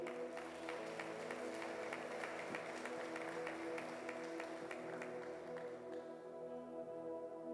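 Church congregation clapping steadily over sustained worship music, a dense even patter of many hands continuing for several seconds at moderate distance.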